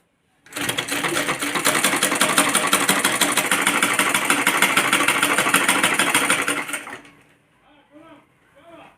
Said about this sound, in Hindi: अब हम नीचे की सिलाई करेंगे